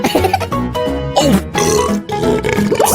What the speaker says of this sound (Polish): Co za beknięcie!